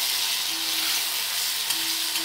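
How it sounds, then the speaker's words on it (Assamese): Sliced onions frying in hot oil for a tomato chutney give a steady, close, even sizzle that runs unbroken throughout, with no voices. "ভালদৰে ভাজি ল'ব"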